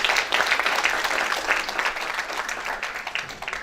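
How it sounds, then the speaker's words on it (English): An audience at a civic dialogue event applauds together, a dense, fairly loud patter of many hands clapping that holds steady and tapers slightly toward the end. "I want to ask you to give yourself a lekker round of applause."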